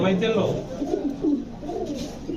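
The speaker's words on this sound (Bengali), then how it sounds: "চলেন আমরা কবুতরগুলো দেখাই" Pigeons cooing inside a pigeon shop, soft low burbling coos repeating close by, with people talking over them throughout.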